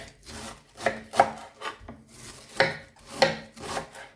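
Knife shredding cabbage into thin strips for sauerkraut, a steady run of crisp chopping strokes on a board, close and fairly loud, coming in quick bursts with short pauses between them.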